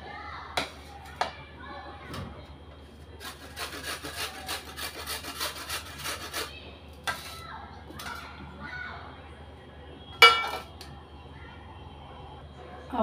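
Indian gooseberries (amla) are grated by hand on a kitchen grater, producing a series of close scraping rasps in irregular strokes with short pauses, with faint background voices.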